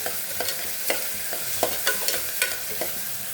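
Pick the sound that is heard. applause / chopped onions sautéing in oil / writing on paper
chopped onions sautéing in oil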